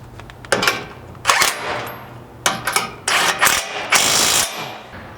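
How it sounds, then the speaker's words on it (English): A socket ratchet on a 19mm socket tightens bolts on a Toyota Tacoma rear bumper, loud close bursts of rapid clicking in four or five separate runs with brief pauses between. "go ahead and tighten those up with your 19mm socket"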